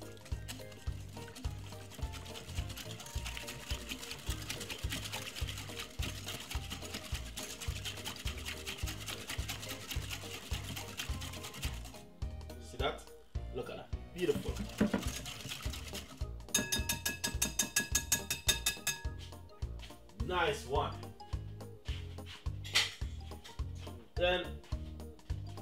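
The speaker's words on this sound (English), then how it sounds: "Then simple, give it a whisk." A whisk beats brown sugar barbecue sauce in a bowl, giving quick rhythmic clinks and wet swishes under a speaking voice.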